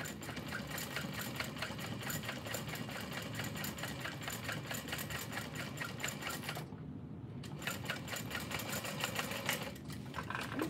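A sewing machine runs continuously with a fast, even mechanical chatter, stitching a zipper panel onto a bowler bag, close and steady, with one short pause partway through.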